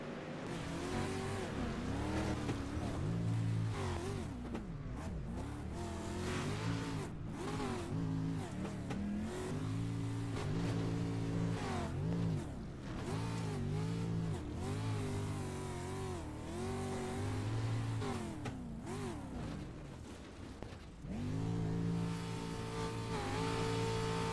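Onboard a race car at an enduro derby: the engine revs hard in repeated rising and falling surges, loud and close, with brief drops between pulls and occasional tire scrubbing, continuing throughout.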